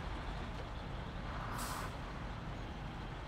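A GMC 9500 truck in the video game SnowRunner drives along with a steady, loud engine rumble throughout, with a short airy hiss bursting in midway like an air brake release.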